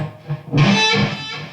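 An electric guitar rakes across the strings into a bent note, played with delay and heavy gain. A short muted scrape leads into a loud sustained distorted tone that rings and trails off.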